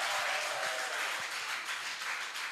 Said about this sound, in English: Please, a round of applause for your beautiful selves.